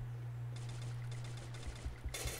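Rapid automatic gunfire from the battle royale game Free Fire, a dense rattling burst of shots over a steady low hum, ending in a louder, brighter volley with a few heavy thumps.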